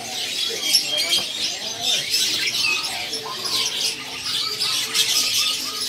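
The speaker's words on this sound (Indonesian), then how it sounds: "Jalak suren sepasang gacoran ya" A pair of tame jalak suren, or pied mynas, chatter and call with bright, overlapping whistles and chirps, close by and steady throughout, mixed with busy ambient bird noise around them.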